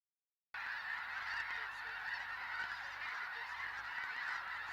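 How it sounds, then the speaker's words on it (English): A large gathering of snow geese in Saskatchewan honks in a dense, continuous chorus, a steady wash of many overlapping calls from a distance with no voices. "The gathering of the snow geese, just some of the beauty here in Saskatchewan"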